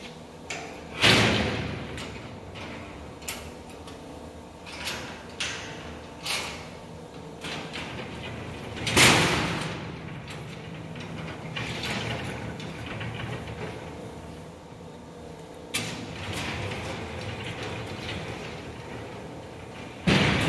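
Metal primate cage panels and locking mechanisms are worked by hand, giving a series of loud clanks, sliding rattles and thuds at irregular intervals, with two especially heavy impacts standing out.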